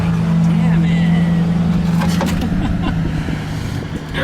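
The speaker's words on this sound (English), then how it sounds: "Now you get all the noisy vehicles passing by." Road traffic rolls past a parked 1971 VW Type-3 Squareback 1600 Variant during a valve adjustment: a loud, steady engine drone with vehicles passing close by, filling the whole stretch, with a voice speaking over it.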